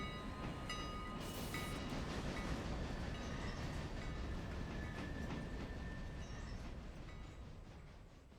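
A train rolls steadily along the rails in the Railroader video game, a continuous loud rumble with clickety-clack and a brief high squeal near the start, with no talking.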